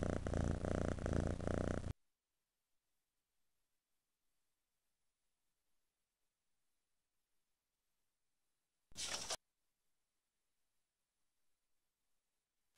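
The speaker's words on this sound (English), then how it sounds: "Three cats." Cat purring in an educational reading and counting game, a loud, rough purr for about two seconds, then long silence broken by one brief burst.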